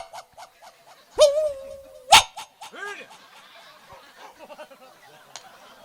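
A voice imitates a dog barking, with two sharp, loud yelps standing out amid comic storytelling, followed by softer vocal sounds and laughter-like noises.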